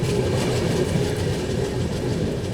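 Passenger train rolling steadily along the rails as it nears Sawai Madhopur station in India, a continuous dense rumble with faint clickety-clack from the carriages, heard from on board with no talk.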